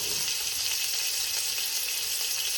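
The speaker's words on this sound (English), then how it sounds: "sear the sides. Put a nice flavor crust on it" Pork searing in a hot pan for a green chili casserole, a steady close sizzle and crackle of frying that holds without pause and with no voices.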